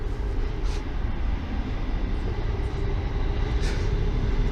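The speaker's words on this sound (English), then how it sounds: "There's a train." A train passes near a park in Croydon, a steady low rumble and rolling rail noise that stays loud and continuous throughout.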